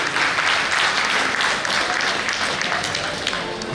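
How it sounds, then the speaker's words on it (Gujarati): Audience applause at a spiritual talk event, a dense, steady wash of many hands clapping throughout, fairly loud and continuous with no break. "જોરદાર તાળી પાડો"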